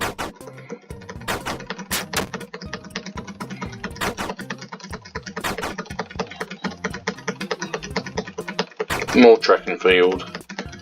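Rapid, dense computer keyboard typing clatters throughout during play of The Escapists, with game sounds and a brief spoken line near the end.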